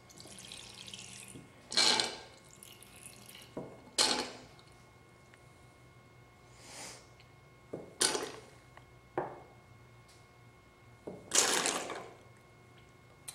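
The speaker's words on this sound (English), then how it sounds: "So I need to get more water in there." Water is poured in uneven splashing bursts into the reservoir of a water-cooling loop built into a computer desk, over a steady low hum, with a few creaks between pours.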